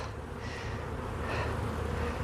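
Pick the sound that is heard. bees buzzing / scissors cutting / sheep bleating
bees buzzing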